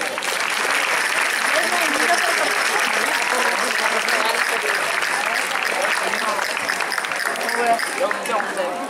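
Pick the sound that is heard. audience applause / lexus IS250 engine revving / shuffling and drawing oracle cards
audience applause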